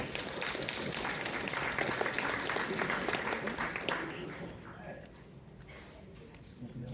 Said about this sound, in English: So, let's give a round of applause to everybody.